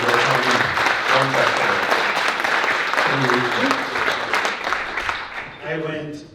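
Clapping from an audience fills a film Q&A after a weekend screening. It runs steadily and fairly loud beneath a voice, which keeps talking over it throughout.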